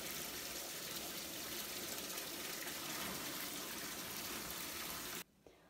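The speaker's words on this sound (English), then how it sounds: "it takes forever for my bathtub to fill up" Tap water gushes steadily into a bathtub for several seconds, a loud continuous broadband rush that cuts off abruptly near the end.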